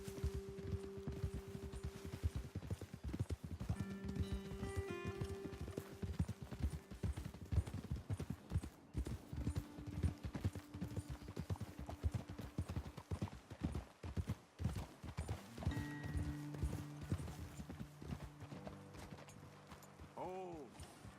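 Horses' hooves clip-clopping steadily on a trail in the Red Dead Redemption 2 video game, a continuous rhythmic walking gait under background music, with occasional voices talking over it.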